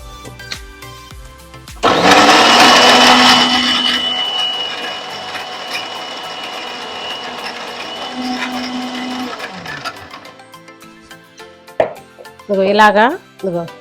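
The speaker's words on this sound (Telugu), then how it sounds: "ఈ పచ్చి కొబ్బరి ఉంది కదా, ఇది వేసుకోండి. వేసుకొని దీన్ని మిక్సీ పట్టుకోండి." A kitchen mixer grinder whirring through fresh coconut, a loud, steady motor drone lasting several seconds before winding down, after which a voice speaks briefly close by.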